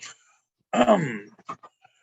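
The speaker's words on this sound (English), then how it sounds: "I don't know why I'm just coughing so much lately" A single rough, throaty cough, close and fairly loud, followed by a couple of short, quieter coughing bursts.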